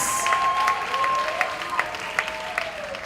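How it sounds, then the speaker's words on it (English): Audience applause at a performing arts awards ceremony honouring a high school drum group, a moderate, fairly steady patter of clapping with a few sharper claps standing out, heard from within the hall. "Another round of applause, ladies and gentlemen, for the Arden High School drummers."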